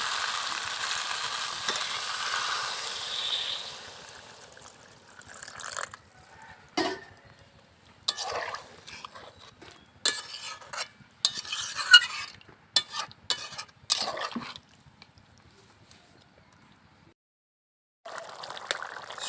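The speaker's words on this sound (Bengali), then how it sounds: "এবার এর মধ্যে ঝোল দিয়ে দেব।" Broth poured into a pot of browned, well-cooked country chicken curry for a picnic: a loud hiss and sizzle for a few seconds, then scattered scraping stirs with pauses and near-silence between them.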